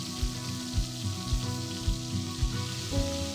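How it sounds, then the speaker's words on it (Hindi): Mutton sizzles steadily in hot oil over a high flame, with soft rhythmic thumps every half second or so and no talking. "हाई फ्लेम पर मटन को भुनना है।"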